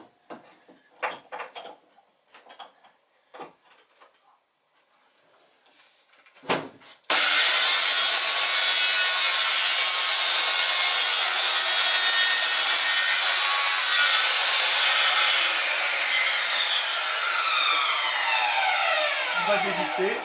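Wood being sawn for a toy model boat's planking, a continuous loud rasping stroke that runs for about thirteen seconds after a series of light knocks and clamp-handling taps.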